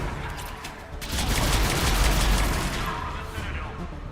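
Dense, continuous gunfire from a Mass Effect 3 battle, a loud crackling barrage with rumbling low end that swells in the middle and eases slightly toward the end.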